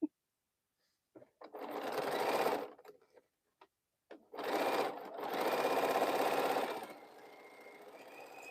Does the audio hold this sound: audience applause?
no